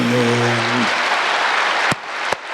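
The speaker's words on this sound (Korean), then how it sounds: "큰 박수로" A church congregation at a worship service bursts into loud, dense applause that fills the room, then cuts off abruptly with a couple of final claps.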